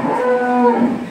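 A heifer on a dairy farm in Fatullah, Narayanganj gives a single clear moo, close and loud, a short tonal call lasting about a second.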